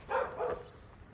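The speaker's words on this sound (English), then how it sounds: "Neighbor has dogs, so that's gonna be something we have to deal with" A neighbor's dogs bark from next door at a house for sale near Lackland Air Force Base, two muffled barks in quick succession, faint and somewhat distant, then quiet background.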